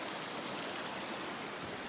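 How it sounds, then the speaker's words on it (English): A snowmelt creek in the Snowy Range mountains, flowing toward Brooklyn Lake, makes a steady, close rushing and babbling of water with no break and no voices. "And I'm guessing this creek feeds Brooklyn Lake,"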